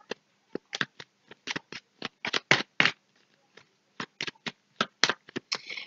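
Tarot cards are laid down one after another on a table, making about twenty crisp, quiet slaps and snaps in an uneven rhythm, with short pauses between small bursts. The room around them is silent.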